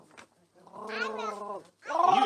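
A person's voice imitates the Grinch's growl from the Christmas story, a drawn-out, gargling, purr-like rumble followed by a shorter, rougher burst, close and loud, with no other talk.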